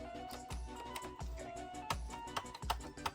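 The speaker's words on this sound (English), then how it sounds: "that button is definitely clicky" The open button on a Japanese GameCube, dirty and grimy, pressed again and again, giving sharp close clicks in an uneven rhythm at low volume with no talking.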